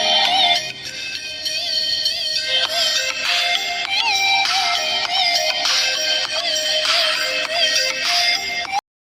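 An Honor X7b smartphone ringtone plays loud and close, a repeating bright electronic melody that runs steadily for about nine seconds before cutting off abruptly.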